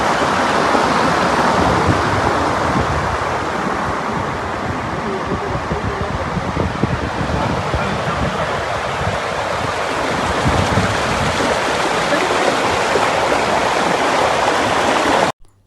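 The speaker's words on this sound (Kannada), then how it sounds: "ಮಸ್ಕತ್ತಲ್ಲಿ ಈಗಾಗಲೇ ಜೋರಾಗಿ ಮಳೆ ಬರ್ತಾ ಇದೆ" Heavy rain pours in Muscat while water rushes along the roads, a loud, dense, continuous roar of falling and flowing water that cuts off abruptly at the end.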